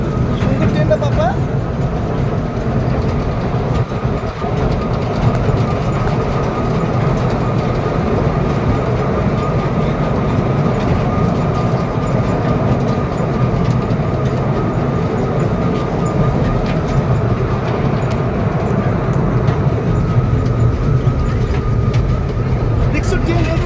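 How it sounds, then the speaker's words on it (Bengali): A train moves along a railway line, a steady rumbling roar that holds through the whole stretch, with an adult talking to a young child over it. "এই যে ট্রেন লাইন থেকে আসছে"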